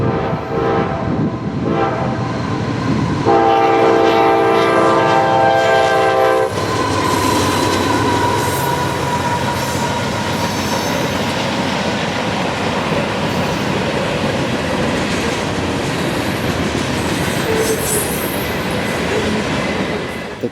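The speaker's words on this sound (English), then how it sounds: "Approaching from the south is another M442 out of Tampa for Waycross." Freight train M442 out of Tampa bound for Waycross approaches with a loud, sustained horn blast over steady rail clatter and rumble, the horn cutting off partway through while wheel noise continues strongly to the end.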